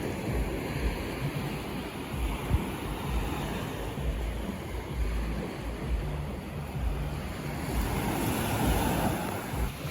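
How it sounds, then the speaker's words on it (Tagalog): Gentle sea waves wash steadily onto a beach near Isla de Potipot, a continuous soft roar of surf with wind buffeting the microphone, no voices heard. "Hindi po malalaki ang alon ngayon."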